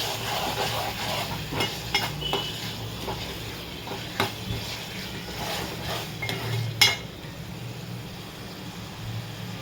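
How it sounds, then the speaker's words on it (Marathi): Chicken curry masala roasting in oil in a pan for a spicy chicken rassa gives a steady soft sizzle, broken by intermittent scraping stir strokes and a few light metallic clinks of a spoon against the pot. "छान तेल सुटेपर्यंत भाजून घ्यायचं"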